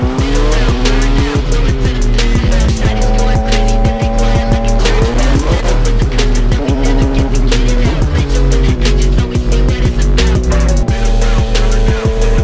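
McLaren 720S GT3X race car at full throttle around Circuit of the Americas in Austin, Texas during a time attack event, its engine loud and close with rapid gear shifts and repeated rev changes, tire noise and no talk.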